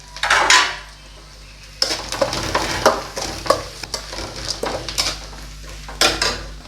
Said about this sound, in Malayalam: ഒരു 2-3 വെളുത്തുള്ളി ചെറുതായിട്ട് അരിഞ്ഞത് ഇട്ട് കൊടുക്കാം.